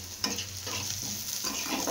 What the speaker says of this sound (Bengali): পেঁয়াজটা হালকা করে একটু ভেজে দিয়ে তারপর বরবটি আলুটা দিয়ে দেবো এর মধ্যে